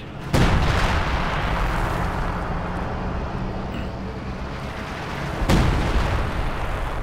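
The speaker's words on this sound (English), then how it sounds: "Feldhaubitz firing once more. Should do a bit of good." Two heavy howitzer blasts in the video game Company of Heroes 2, about five seconds apart, each a sharp boom over a constant rumbling, noisy battlefield background.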